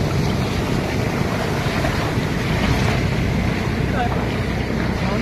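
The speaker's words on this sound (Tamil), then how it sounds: "கடல் சீற்றம் மாதிரி பாருங்க." Rough sea waves crash on a beach at Kalpakkam, making a loud, continuous broadband roar mixed with gusty wind buffeting the microphone throughout.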